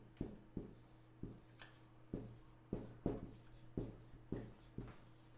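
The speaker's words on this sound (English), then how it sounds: "You got to come here to erase the board." Rhythmic rubbing strokes on a classroom board during an English lesson, about a dozen evenly spaced swipes that are close and quiet, with no talking over them.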